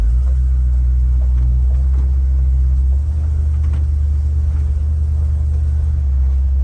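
Ford driving on a test drive after a new steering gear was fitted, a loud steady low rumble of engine and road noise from inside the car, shifting slightly midway as the vehicle moves.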